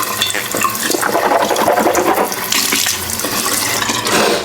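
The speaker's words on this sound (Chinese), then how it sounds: "这个水龙头离这个脸盆的距离有点太近了，然后你在洗手的时候，不管做什么东西，整个洗手台面都会被水喷得乱七八糟的" Water runs from a faucet set close above a washbasin in a guesthouse bathroom, making a loud continuous splashing gush that holds for a few seconds.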